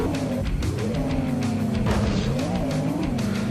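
A 4x4 truck drives in the Sega Saturn game Hardcore 4x4, its synthetic engine drone rising and falling in pitch with gear and throttle changes, steady and fairly loud, with no talking.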